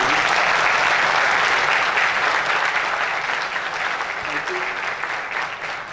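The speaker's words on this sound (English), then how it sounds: "give a big round of applause to your parents" Audience applause at a university convocation ceremony in Bhopal, a loud sustained wash of clapping from a large crowd that holds steady for several seconds before easing slightly.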